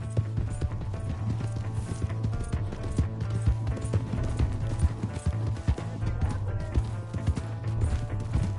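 A horse's hooves clip-clop quickly and steadily in the western game Red Dead Redemption 2, loud and close, as if trotting or galloping, along with scuffs, bumps and faint background voices over a low hum.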